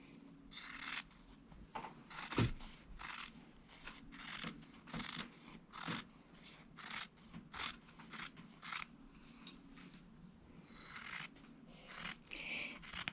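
Scissors trimming the interfaced seam allowance on a fabric collar: a run of close, crisp snips and crunchy cuts in an irregular rhythm, quiet and alone without talk.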